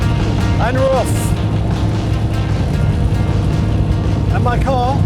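A car rolls along the road with a steady, loud engine and road rumble filling the whole stretch, while voices briefly talk over it.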